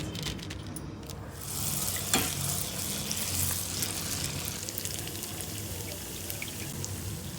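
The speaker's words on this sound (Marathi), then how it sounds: "अनारसा तळताना तेल व्यवस्थित घ्यावं, म्हणजे अनारसे चांगले होतात." Anarse, traditional rice-and-jaggery sweets coated with sugar and poppy seeds, deep-frying in oil, giving a steady dense sizzle throughout with a brief sharper crackle early on, close and alone with no talk.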